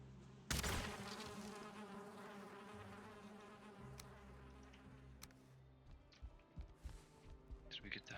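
Honeybee buzzing close by outdoors, a steady low insect drone lasting several seconds after a sharp thump, with people talking underneath.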